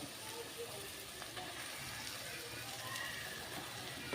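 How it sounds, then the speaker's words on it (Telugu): Pieces of a 1.5 kg fish, head included, drop into a pan of hot oil and fried masala. A steady, close, hissing sizzle runs throughout, with a low voice faintly underneath. "ఇప్పుడు మన చేప ముక్కలు వేసుకుందాం."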